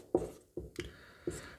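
A pen or chalk writes out a question number on a board or page. Four short scratchy strokes come in an uneven rhythm, close and fairly quiet, and there is no speech.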